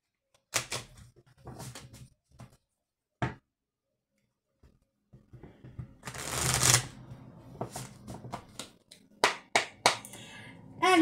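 Oracle cards are shuffled and cut up close: scattered soft riffles and taps, a longer burst of rapid shuffling in the middle, then quick flicks and snaps, all quiet with no voice.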